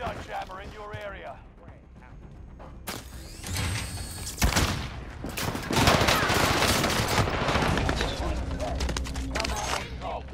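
Gunfire crackles in a Call of Duty: Modern Warfare match, with bursts of rapid shots, some close and some distant. A player talks over the shooting.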